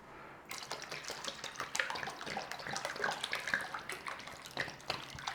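Water running into an open cooking pan for soft khichdi, a steady splashing stream that starts abruptly and continues at close range, with no talking.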